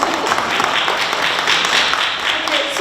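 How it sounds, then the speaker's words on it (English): Audience at a Newark NAACP mayoral forum clapping, a dense, continuous round of applause from many hands, moderately loud throughout. "You can clap if you want to."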